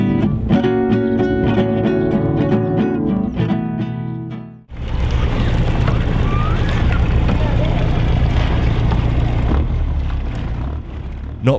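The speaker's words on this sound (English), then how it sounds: "our boat arrived, a very well-travelled tuna fishing boat" After some music, a well-travelled tuna fishing boat's engine drones steadily and loudly in Indonesia, a continuous low rumble with water and wind noise mixed in.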